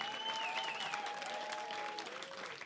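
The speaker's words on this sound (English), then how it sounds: "And the spectators showing their appreciation. Just listen to that noise" Spectators at a comedy club burst into sustained applause, a dense wash of clapping that stays loud and steady throughout with a faint tonal whine running beneath it.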